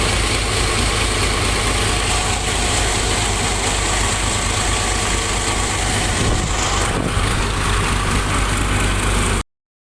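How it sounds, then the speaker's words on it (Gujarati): A tractor engine running steadily at about 1150 RPM, a continuous low idling rumble with vibration that holds even throughout, close and fairly loud with no talk. "1150 આરપીએમ ઉપર ટ્રેક્ટર છે અત્યારે આપણું"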